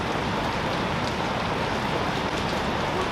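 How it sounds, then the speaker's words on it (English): Rain falls outdoors at the Kinkaseki POW memorial in Taiwan as a steady, dense hiss of drops hitting surfaces, even and continuous, with no voices. "this is one of our typical Kinkaseki rainy days"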